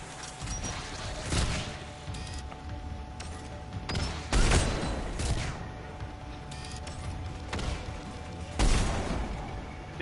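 Repeated rocket launcher blasts and explosions from the Mass Effect Legendary Edition video game, sharp booming bursts recurring every couple of seconds over continuous battle noise.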